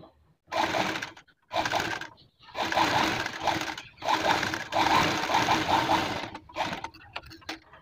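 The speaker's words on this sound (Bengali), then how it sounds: "এর ওপর থেকে একটা চাপ সেলাই দিয়ে দেবো" A sewing machine top-stitches the neck binding of a blouse in several close, steady runs with brief gaps between them, the motor whirring loudly with a fast rhythmic needle clatter.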